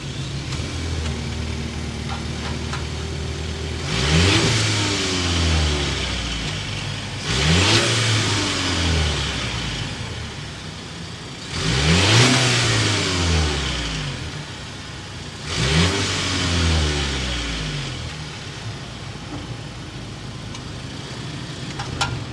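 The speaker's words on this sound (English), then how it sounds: "start it up, so you can hear that exhaust note" A 2023 Volvo XC90 B5 with a turbocharged 2.0-liter inline four-cylinder idles steadily, then is revved four times in spaced bursts, each rising and falling back to a smooth idle.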